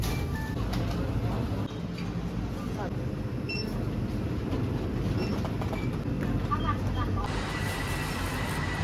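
Train at Sukhumvit station in Bangkok, a steady loud rumble of rail movement with faint clatter and tonal squeals, filling the whole stretch under a busy station background.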